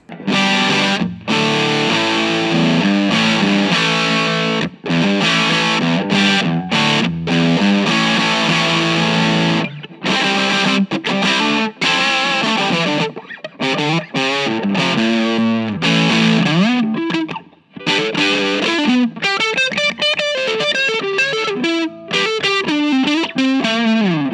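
An electric guitar through an overdrive pedal plays a loud riff of chugging chords and short bursts, building into faster melodic lines near the end, with no voices.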